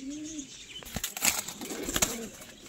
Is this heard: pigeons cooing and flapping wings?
yes